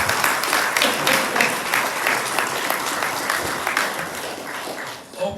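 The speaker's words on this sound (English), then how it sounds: "I think we ought to give them a round of applause for their willingness" Audience at a town candidate forum breaking into steady applause for two candidates, a dense wash of clapping that holds for about five seconds before tapering off abruptly.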